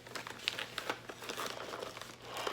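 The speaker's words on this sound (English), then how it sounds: "So the first item I see in here is in a plastic bag, so I'm going to take it out." A plastic bag crinkles and rustles continuously as an item is pulled out of it in a beauty subscription box. The sound is close but fairly quiet, with no talking.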